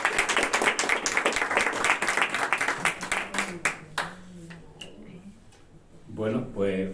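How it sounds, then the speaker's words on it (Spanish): An audience at a gastronomy and literature gathering on salt and wine claps for about four seconds, a dense patter that thins out and fades, then a voice begins speaking. "Un aplauso."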